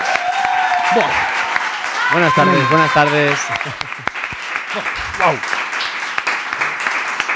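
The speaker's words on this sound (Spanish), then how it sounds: "Un aplauso para él, claro que sí." Applause runs throughout as a steady wash of clapping, with a voice greeting over it and a melodic synth sting near the start.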